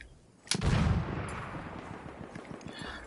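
Gunfire in the video game Battlefield 1 during sniping: a loud shot bursts out suddenly, followed by a rolling boom and a string of fainter, scattered distant shots.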